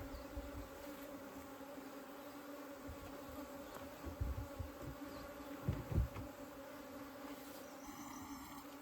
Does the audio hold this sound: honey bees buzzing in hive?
yes